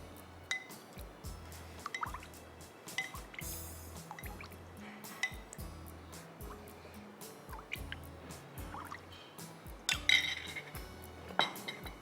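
Condensed milk and water mixture soaking into a sponge cake layer, with soft drips and light clinks of a spoon and dish repeating quietly in a kitchen.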